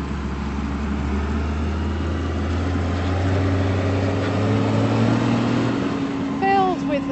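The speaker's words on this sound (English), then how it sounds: "here comes the combine harvester. It's enormous. Can you hear the noise?" A huge combine harvester drives along a country road in summer, its deep engine drone rumbling steadily and loud nearby, with a low mechanical hum throughout and no talk over it.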